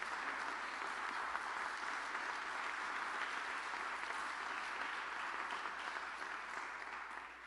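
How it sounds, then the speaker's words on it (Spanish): Steady, dense applause from a sizable church congregation, continuous and fairly loud throughout with no voices standing out. "Dale un aplauso a Dios"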